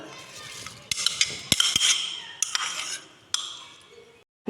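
Banana and apple pieces being mixed in a bowl, with utensils clinking and scraping against the dish in quick irregular bursts, close and fairly loud, no talking.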